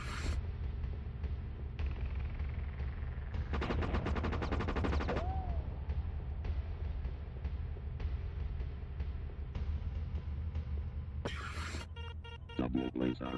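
Rapid-fire weapon in the PlayStation shooter Lifeforce Tenka, a dense stream of repeated synthetic gunshot bursts over a low game drone, with a brief louder flurry midway and more clatter near the end.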